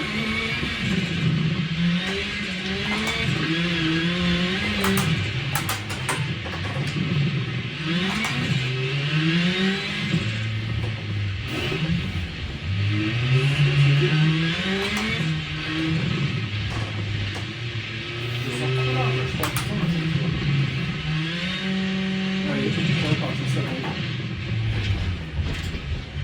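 Rally cars on a small snowy rallycross-style circuit, engines revving hard and shifting through gears in repeated rising and falling sweeps, loud and close for the whole stretch.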